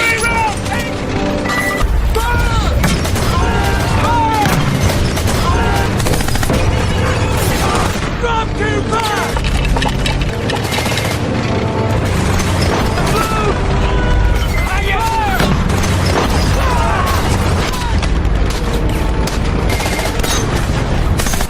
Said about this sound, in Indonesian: mereka langsung mengisi peluru mortar dan langsung diluncurkan ke arah musuh